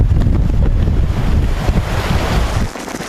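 Roaring typhoon wind and crashing waves from Typhoon Mangkhut at Tai O, a flood-prone fishing village in Hong Kong, as a loud, continuous gusting rush fills the scene before easing slightly near the end.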